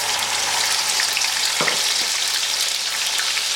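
Steady loud sizzling of ground onion paste frying in hot oil, close up, with a brief stirring scrape partway through and no voices.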